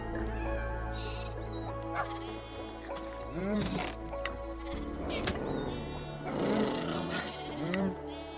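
Cats in the video game Minecraft meow repeatedly in short, bleating calls, loud and close over a steady background of game ambience, with no one talking.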